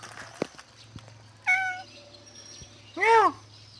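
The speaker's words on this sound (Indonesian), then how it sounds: "Meow meow." Two distinct cat meows, spaced apart: a short one followed by a longer, rising-and-falling one, with a low hum and faint taps in the background.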